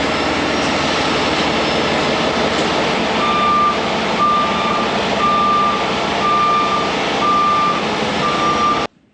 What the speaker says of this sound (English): We'll get the Peterbilt warming up so I can pull it out from behind this thing.